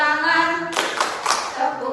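Several sharp hand claps in a school music presentation, following a sustained sung or played tone, with three or four distinct claps at close range.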